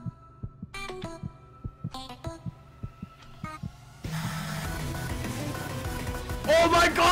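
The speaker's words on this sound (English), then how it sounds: "Okay, heartbeat." A video game mod plays a heartbeat, a slow steady thumping pulse with musical tones over it, which then gives way to a dense, louder droning wash.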